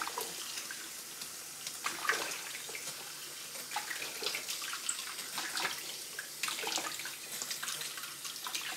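Tap water runs continuously into a kitchen sink while dishes are washed by hand, with faint clinks and splashes scattered through the steady, soft rush of water.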